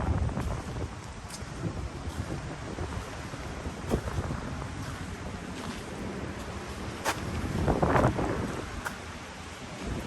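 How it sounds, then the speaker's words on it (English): Wind buffets a microphone outdoors in Japan, a continuous rumbling roar with gusts that swell and fade, loud and close with no other clear sound. "If the wind is too much, just shut your volume off."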